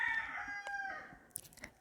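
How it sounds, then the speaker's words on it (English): A rooster crows once at a distance outdoors on the north coast of the Dominican Republic, a long drawn-out call, followed by a few faint clucks. "There's my rooster outside."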